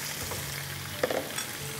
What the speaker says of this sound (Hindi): चिकन को हमने थोड़ा सा फ्राई कर लेना है.